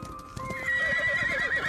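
Horse neighing loudly with a rising whinny, while hooves clip-clop steadily underneath, close and continuous for under two seconds.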